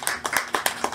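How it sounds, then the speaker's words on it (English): Weak, sparse round of applause from a small audience at a book signing, a handful of hands giving four or five soft claps in under a second, close by and with no voices. "Wow, that was a really, really weak round of applause."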